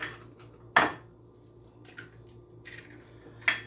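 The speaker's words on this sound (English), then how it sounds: "I'm going to take 4 eggs here. And I'm going to beat them up." A whisk or fork clinks sharply against a bowl while eggs are beaten for brownie batter, a few distinct metallic taps spaced apart over quiet background, with no talk.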